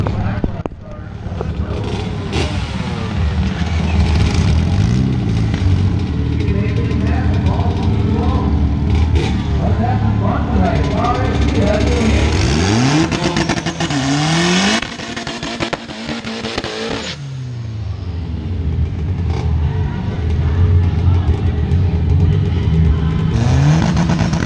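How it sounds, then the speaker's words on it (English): A 2-stroke dirt bike engine revs hard through a drag race run, loud and continuous with rising and falling pitch sweeps as it accelerates, other engines and crowd noise mixed in. "Christian is racing a 2-stroke dirt bike"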